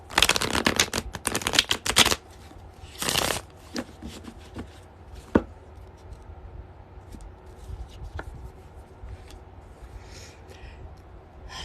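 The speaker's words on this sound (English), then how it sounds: "I gotta shuffle one more time, Jips." Tarot cards shuffled in quick riffling bursts during the first few seconds and again around three seconds, then a quieter stretch with soft taps and faint handling noise and a few isolated clicks.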